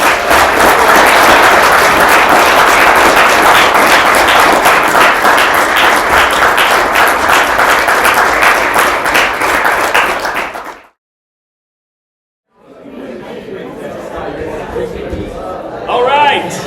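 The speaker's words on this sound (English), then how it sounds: "let's give him a round of applause." Audience applause after a senior thesis defense presentation, dense clapping from a room full of people lasting about ten seconds, then a brief silence before murmuring and room noise resume.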